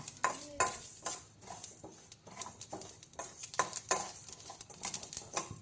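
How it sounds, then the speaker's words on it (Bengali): Whole spices are dry-roasted lightly in a pan for a starfruit pickle, heard as soft sizzling under repeated scraping and stirring strokes of a spatula, faint and close. "মশলাগুলো এবার ভালো করে হালকা করে ভেজে নেব"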